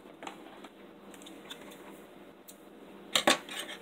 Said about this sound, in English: we're just going to go ahead and cut that yarn to fasten off